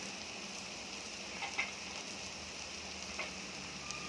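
Spices such as chili powder and turmeric sautéing in oil for a dry cauliflower and potato curry, a quiet steady sizzle with a couple of faint stirring taps.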